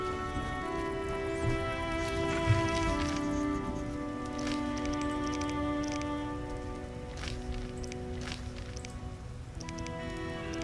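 Rain patters steadily in The Witcher, a soft continuous pattering under faint tonal game music with no voices over it.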